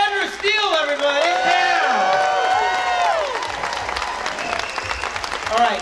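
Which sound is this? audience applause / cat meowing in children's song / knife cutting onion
audience applause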